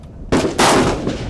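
Two sharp, loud rifle shots about a quarter second apart, fired from cover by a left-handed shooter using a sling, each blast ringing out and decaying into echo.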